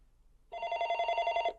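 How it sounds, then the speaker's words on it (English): A telephone bell rings in a phone box out in the snow in a video game, one sustained, trilling burst lasting about a second, clear and moderately loud against near silence. "The phone continues to ring as if calling to me."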